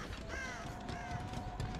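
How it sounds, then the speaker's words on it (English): A bird cawing in the horror game Dead by Daylight, a few harsh crow-like calls over a steady, noisy game backdrop. "Bird! Where is it? Where'd it go?"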